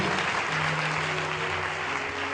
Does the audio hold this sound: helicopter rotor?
no